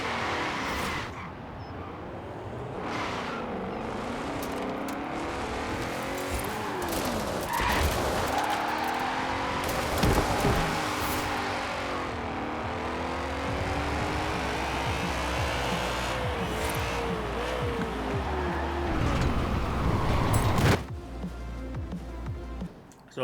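A drift-build car in Forza Horizon 4, set on 275 tyres, drives continuously for over twenty seconds. The engine note rises and falls through the gears, and tyres squeal and skid at times, with no talk.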